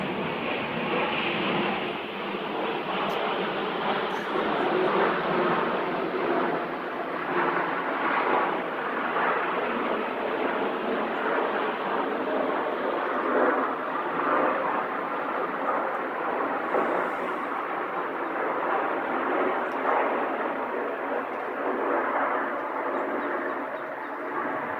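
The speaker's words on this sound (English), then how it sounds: "there are 3 planes right now" Three airplanes overhead make a steady, loud broadband roar that holds for the whole stretch with slight swells, and no one speaks.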